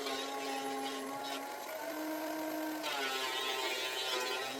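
Thickness planer running steadily as it planes pallet wood boards, a loud constant machine whine with a clear shift in tone partway through as a board feeds through, no talking.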